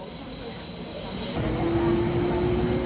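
Interior of a moving MTR commuter train on the KCR line in Hong Kong, with a steady low rumble that swells slightly and a sustained tonal whine appearing near the end.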